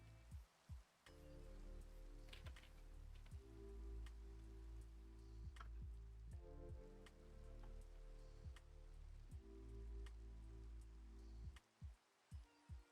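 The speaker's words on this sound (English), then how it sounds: "Oh, I need to get out of the rain." Steady rain patters in a Minecraft game world, a continuous soft hiss with ticking drops, mixed under looping low musical tones and occasional sharp clicks.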